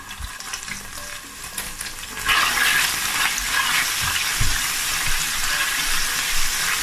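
Garlic and ginger fry in a hot pan for pepper steak, a quiet sizzle that jumps to a loud, steady hiss partway through, with occasional low stirring knocks and no talking.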